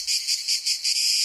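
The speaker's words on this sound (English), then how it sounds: "To me, cicadas scream summer," Cicadas in summer, a loud, near, shrill buzzing drone that pulses in a steady rhythm throughout, with no other sounds.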